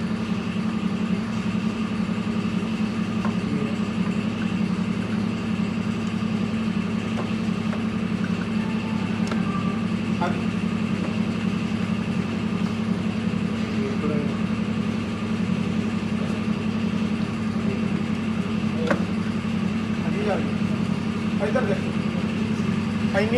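A Mahindra Arjun Ultra-1 tractor's diesel engine idles with a constant, even low drone that holds steady for the whole stretch. Faint voices can be heard in the background.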